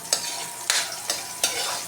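Garlic and onions sautéing in a pan give a steady sizzle, broken by four sharp scraping stirs spaced unevenly, close and fairly loud with no voices.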